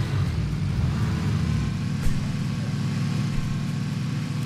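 Car engine in the PUBG video game, a steady low rumbling drone with a faint bump midway, continuous and fairly loud.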